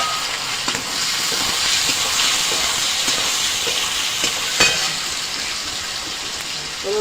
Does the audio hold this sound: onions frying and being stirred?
yes